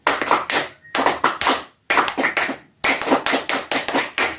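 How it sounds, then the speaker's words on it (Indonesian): A group of Indonesian Pramuka scouts claps together in a rhythmic scout pattern, three bursts of sharp, loud synchronized claps separated by short silent pauses, close and clear with no talking. "Tepuk pramuka."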